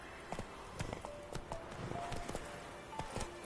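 Roach the horse from The Witcher 3 with hooves clip-clopping in a steady, fairly quiet rhythm, a game soundtrack's soft tones holding underneath.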